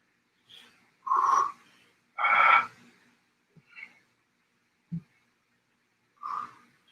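Heavy, effortful breathing during a glute workout: several short, forceful exhalations and sharp breaths come in uneven bursts, close and moderately quiet, with brief pauses between them.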